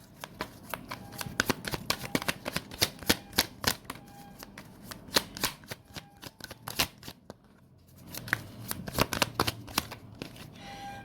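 Tarot cards are shuffled by hand in quick, irregular riffles and slaps, close and crisp, with a brief pause before the shuffling resumes.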